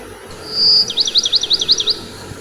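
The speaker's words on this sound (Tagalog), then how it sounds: "May ibon." A single bird gives a short whistled call followed by a quick trilling chirp, clear and fairly close against a quiet background.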